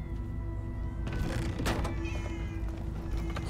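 Several cats meow in a Minecraft Story Mode scene, layered calls over a steady game soundscape with a sustained musical tone, the meows fairly clear and repeated across the moment.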